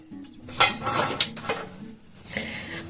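Fried pieces of homemade spicy-sweet chanachur are scooped from a pan of hot oil, with a metal utensil clinking and scraping against the pan in a short burst of clatters over faint sizzling.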